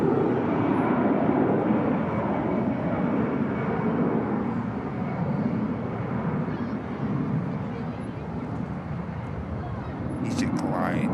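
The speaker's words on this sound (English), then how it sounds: "EasyJet about to rotate." An EasyJet airliner rotates off the runway, its engines a steady, loud broadband roar that fills the scene throughout with little change, heard from the airport perimeter.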